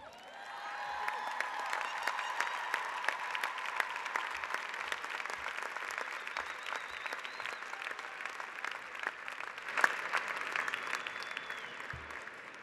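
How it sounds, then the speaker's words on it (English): Audience applause at The New School 2018 commencement ceremony, a sustained wash of many hands clapping in a large crowd with occasional cheers, steady and moderately loud throughout. "Let's give another round of applause to our honorary degree winners."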